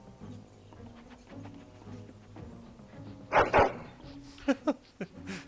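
A big dog in Dragon Age: Origins on Xbox 360 barks excitedly: two loud close barks, then a few shorter yips, over soft game music, with a brief voice.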